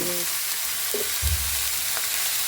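Shrimp and chopped cabbage with finely diced potato frying in a pan, a steady loud sizzle running throughout, with a brief clatter of stirring near the middle and no voices.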